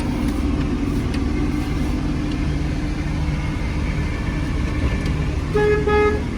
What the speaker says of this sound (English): Working horn.